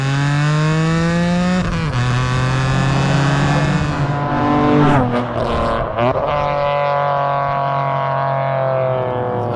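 A BMW E46 M3 street car fitted with a Super Sprint exhaust revs hard and close, its loud, raspy straight-six note climbing and dropping through several blips with no one speaking.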